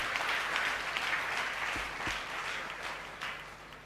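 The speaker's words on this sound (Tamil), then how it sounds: "கைதட்டு பார்க்கலாம்." A church congregation claps during a Christmas sermon, a dense, sustained round of hand clapping that stays fairly loud throughout and eases slightly toward the end.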